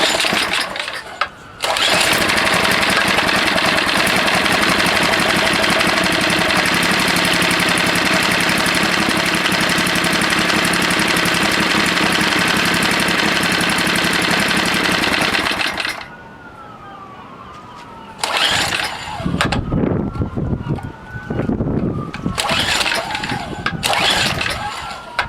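A Tecumseh HSSK50 small engine, run with the choke on, starts after a brief pull and roars loud and close at steady speed for about fourteen seconds, then cuts out, followed by several uneven sputtering restart bursts.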